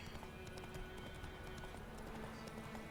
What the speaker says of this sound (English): better travelling by horse rather than having to navigate around what man knew